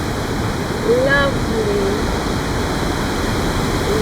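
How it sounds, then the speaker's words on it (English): Continuous broadband roar of a waterfall in Norway, steady and close, with a person's brief excited exclamation over it. "This area of Norway is just full of waterfalls everywhere."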